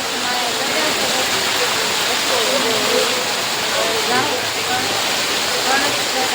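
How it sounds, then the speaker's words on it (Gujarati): Heavy rain pours down in Indore, making a loud, steady, unbroken roar like a waterfall that fills the whole stretch. "આમ જો કેટલો બધો વરસાદ આવે છે"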